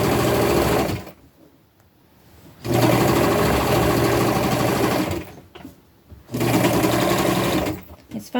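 A sewing machine stitches flannel in rapid steady runs, loud and close, in three bursts separated by pauses.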